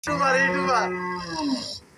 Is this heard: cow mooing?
yes